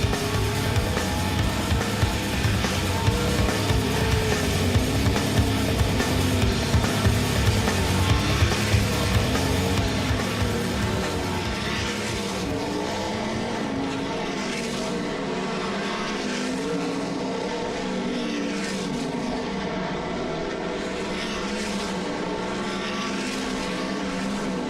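World of Outlaws sprint cars circle Ohsweken Speedway in a hot lap qualifying session, a loud, sustained engine roar that rises and falls as cars pass, then drops to a more distant drone.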